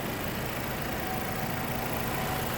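A 2017 Audi A4 Quattro Prestige idles with a smooth, steady engine hum, close and even, without voices.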